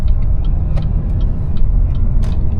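An Opel Insignia 1.6 CDTI Grand Sport diesel engine drones steadily at close range while driving and accelerating, a continuous low rumble of road and motor noise with no voices.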